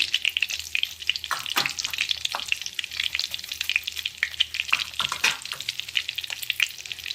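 Tempering spices such as fenugreek, asafoetida, dry red chillies and mustard seeds frying in hot oil, a dense continuous crackling sizzle with sharp pops and spatula stirring, close and fairly loud.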